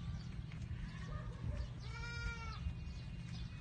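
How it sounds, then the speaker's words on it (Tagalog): A goat bleats in a rice field, giving a couple of wavering, nasal cries close by over a steady low rumble of background noise. "May kambing!"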